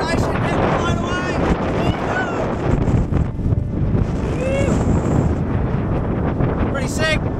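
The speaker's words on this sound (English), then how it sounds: "I don't know if you can hear me, it's so windy." Strong wind buffets the microphone continuously on a hill in the outback Flinders Ranges, South Australia, near a four-wheel-drive track, a loud rumbling roar with a voice talking underneath in places.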